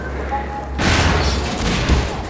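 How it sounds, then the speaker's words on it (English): A barrel explodes in the video game Half-Life 2, a sudden loud burst of noise followed by a sustained roaring rumble that fills the rest of the moment. "Putting the barrel on the left of the guard will cause the other two barrels to the left to catch fire and explode."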